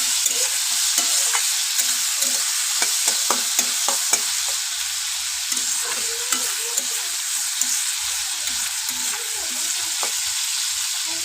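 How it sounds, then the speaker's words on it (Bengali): Food sizzles in a pan after a pinch of turmeric is added, with a constant bright hiss of frying and many small scraping ticks from stirring throughout. "তো ওটা একটু ভাজা ভাজা হচ্ছে"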